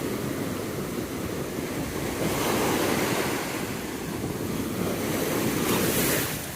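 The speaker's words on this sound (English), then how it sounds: "You can see the surf is kind of rough here." Rough ocean surf rolling onto a warm beach, a loud continuous roar of breaking waves with wind buffeting the microphone, swelling in a couple of surges, no voices.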